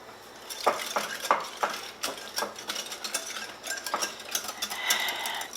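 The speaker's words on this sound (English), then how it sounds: "And then I just mix all that up." Potato salad ingredients are stirred and mixed in a bowl with a utensil, giving a quick series of close clicking and scraping strokes and no talking.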